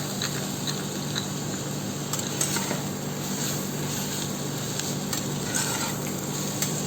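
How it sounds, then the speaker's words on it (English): Char magaz seeds and cashew nuts sautéing in a hot pan, with a steady sizzle and frequent stirring scrapes and clinks from a utensil. The sound is close and continuous, with no talking. "a little saute, and I'm going to add the char magas"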